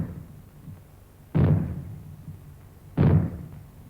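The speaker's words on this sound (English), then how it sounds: "When fallout is expected, you will hear 3 bangs in short succession," Loud, close bangs used as a fallout warning signal in 1970s UK civil defence; two sharp booming reports heard about 1.6 seconds apart, each with a short rumbling decay, over a quiet background.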